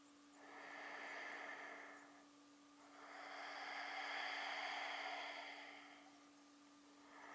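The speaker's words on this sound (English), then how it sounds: "Cultivate Ujjayi breath." Ujjayi breathing drawn from the back of the throat, a soft hissing, ocean-like breath in two long, steady swells, an inhale then a longer exhale, close and alone over a faint steady hum.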